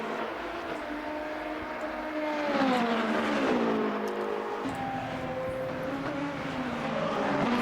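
A Porsche race car engine howls around the Le Mans circuit in a sim racing game, a loud sustained tone rising and falling through gear changes with no talk over it.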